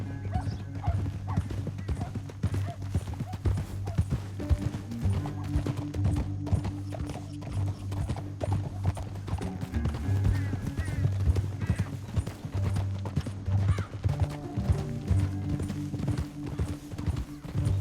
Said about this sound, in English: get off your horse